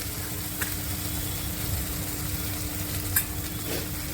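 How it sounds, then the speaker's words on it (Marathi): Ghevda bean bhaji being sautéed with red chili, homemade masala, coriander, cumin and turmeric powders: a steady close sizzle of frying with occasional scraping clicks from stirring and a faint low hum underneath. "आता चांगलं परतवायचं"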